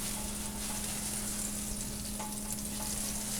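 Butter sizzles on a hot griddle set to high heat for Reuben sandwiches, a dense, constant hiss holding steady throughout with a faint hum underneath and no voices.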